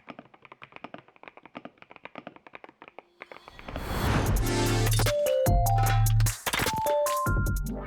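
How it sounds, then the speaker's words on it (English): Rapid clacking keystrokes on an MSI Forge GK600 TKL wireless mechanical gaming keyboard for a few seconds, then loud music with sweeping tones swells in and drowns out the typing. "This is the first time I've typed on a budget keyboard"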